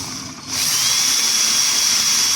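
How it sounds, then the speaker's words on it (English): A power drill whirs steadily and loudly at close range after a brief quiet start, holding one high-pitched whine throughout. "so I'm just going to drill this, hopefully"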